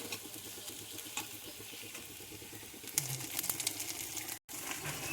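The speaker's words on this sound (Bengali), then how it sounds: "রসুন বাটা, মশলাগুলো একসঙ্গে ভেজে নিচ্ছি।" Ginger and garlic paste frying with spices in a pan for a Bengali fish-head moong dal, a soft steady sizzle and crackle with occasional stirring scrapes and a brief dropout near the end.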